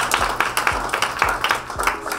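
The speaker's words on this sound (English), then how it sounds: "Let's give each of the groups a round of applause." An audience gives a round of applause at a cybersecurity conference in Kenya: a series of fairly sparse, loud, rhythmic claps, close and unaccompanied by talk.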